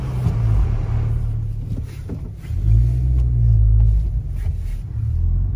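A car climbs through the gears on a winding road, heard from inside as a low, rumbling engine drone that dips and then swells again as it accelerates, fairly loud and steady with no talk.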